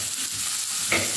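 An egg frying in a pan at breakfast, a soft, steady sizzle close by with a brief brighter crackle near the end.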